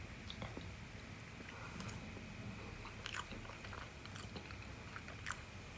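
Biting into a bubble milk tea inspired snack from Singapore: a few soft, close crunches and chewing sounds spaced over several seconds, quiet against a steady hiss.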